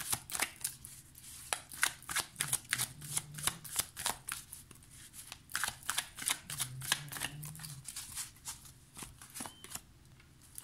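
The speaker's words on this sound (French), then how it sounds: "je vais prendre le tarot de la magie verte" Tarot cards shuffled by hand close up, a steady run of soft riffling flicks and slaps repeating in quick bursts, quiet and without speech.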